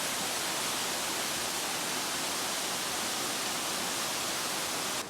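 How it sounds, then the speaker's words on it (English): A waterfall on a mountain trail, partly hidden behind trees, rushes in a steady, broadband hiss at a moderate distance, continuous and unbroken with no voices. "Here's another waterfall."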